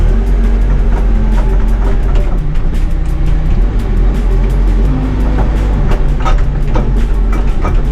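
A Bobcat V519 Versahandler telehandler engine running steadily and loudly up close during a two-point turn, a constant mechanical drone with sharp clicks and clatter on top, no talk.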